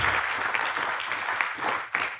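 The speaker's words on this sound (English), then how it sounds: "Let's give a round of applause to the three speakers that have shared their stories up here today." Audience at an agricultural outlook forum applauds panel speakers after a water quality discussion, a steady, moderately loud crowd clapping with a few sharper individual claps standing out near the end.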